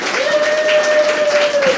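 Audience applause at a community music meeting in Portland, a steady wash of clapping from a crowd, loud and close, with a thin sustained tone running underneath.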